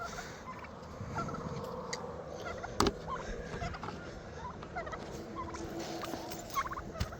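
A turkey gobbles in short bursts amid steady outdoor farmyard noise, with a sharp clatter partway through.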